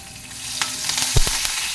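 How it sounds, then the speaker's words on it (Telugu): Green chillies and curry leaves fry in hot tempering oil, giving a steady sizzle with a few sharp crackles and pops near the end, close and fairly loud. "ఇప్పుడు పచ్చిమిరపకాయలు కూడా ఇందులో వేసేసుకుని వేయించేసుకుందాం"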